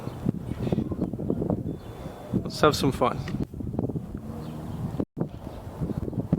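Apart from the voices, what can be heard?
wind on a hot windy evening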